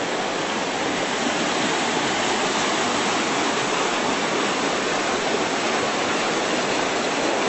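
A fast-running creek in the White Mountains rushes loudly and continuously, a dense steady roar of water with no pauses and no voices.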